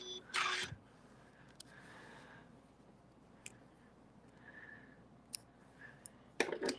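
Scissors cutting sewing thread, a sharp close snip near the start and another toward the end, with faint clicks and quiet machine hum in between.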